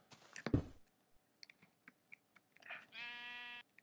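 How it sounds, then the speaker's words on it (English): Quiet clicking and tapping, then a short synthetic Minecraft sheep bleat toward the end, clear and close. "Hello, sheep. I hear you."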